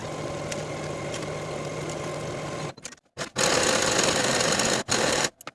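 A sewing machine stitches pant inseams with a 5/8 inch seam allowance, running in two continuous buzzing stretches close up, with a brief stop and a few quick gaps between them.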